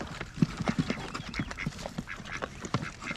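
A duck on a homestead quacks repeatedly in quick, uneven bursts at close range, with soft farmyard background noise between the calls.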